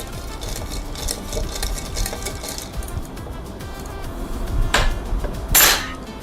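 A spoon stirs kokum drink mix with lemon juice and salt in a glass, giving repeated clinks and swirling taps at an irregular rhythm, close by, ending in a couple of sharper knocks.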